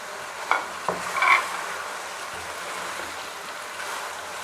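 Half-boiled peas and carrots hitting a hot frying pan for fried rice, a few quick clattering drops and a brief sizzle burst, then a quieter steady hiss of oil.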